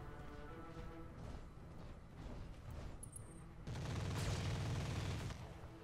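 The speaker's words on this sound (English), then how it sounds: "Nice machine guns, dude." Machine gun fire from mechs in the video game Roguetech, a continuous rattling barrage over rumbling battle ambience that swells louder near the end, no voices.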